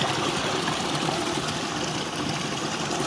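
Constant rushing water, a close stream pouring and churning steadily with no pauses.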